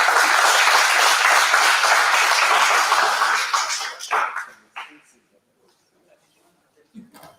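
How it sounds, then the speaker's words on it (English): Audience applause for the judges at a college debate competition in Agra, loud, dense clapping from a crowd that holds for about four seconds, then fades into scattered last claps and near silence. "Can we have a huge round of applause for them?"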